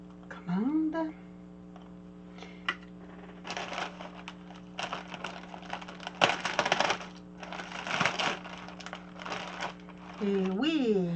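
Plastic packaging of a Temu parcel crinkles and rustles in several bursts as it is torn open, close by, with a person speaking between the handling noises.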